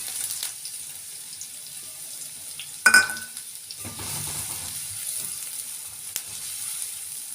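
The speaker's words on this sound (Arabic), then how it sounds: "معايا هنا حله فيها حوالي 3 معالق زيت، ونجيب فيها البصل اهي." Onions tip into a pot of about three spoons of hot oil with a sudden loud burst, then a low sizzle and occasional stirring scrapes continue quietly.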